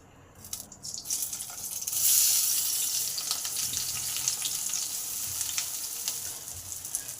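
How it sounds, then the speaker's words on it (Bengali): Pieces of eggplant hitting hot oil in a pan burst into a loud, bright sizzle after a few quiet clicks, then settle into a steady crackling fry with scattered pops. "তেল গরম হলে এই বেগুনগুলো ভেজে নেব"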